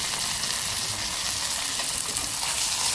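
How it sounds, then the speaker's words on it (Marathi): Masoor dal and garlic frying in oil for a Maharashtrian gavarichi ras bhaji give off a steady, loud, close sizzle with continuous crackling hiss throughout. "तर आता हे सगळं मिश्रण आपण त्याच्यात फ्राय करून घ्यायचं आहे."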